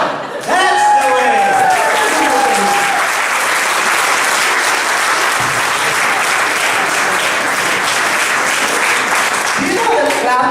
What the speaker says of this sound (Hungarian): You know that clapping is a positive gesture?